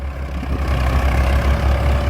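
Swaraj 855 and Farmtrac 60 tractor engines running in mud, a steady low diesel drone that holds evenly and fairly close throughout, with no talk over it.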